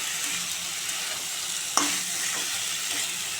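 Taro stolons (lati) are stirred in a pan over a soft, steady sizzle, with one sharp scrape of the utensil against the pan partway through. Quiet and close, with no voices.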